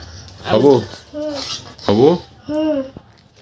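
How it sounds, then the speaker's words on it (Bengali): A steel plate is set down while serving beef paya nihari at home, with several clinking, clattering knocks of metal dishware heard close by under voices talking. "আমরা এখন এই যে স্টিলের প্লেট এখানে দিছি"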